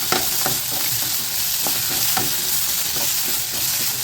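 Onions sizzle steadily in a hot pan for onion chutney, with a constant frying hiss and several brief scraping stirs spaced through, close and alone.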